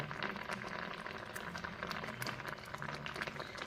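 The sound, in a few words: liquid boiling in a pot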